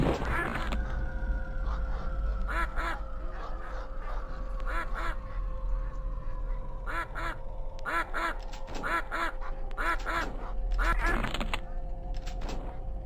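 Cartoonish duck quacks from a video game, triggered by stepping on ducks, arriving in short bursts of two or three loud nasal quacks repeated many times over a low steady hum.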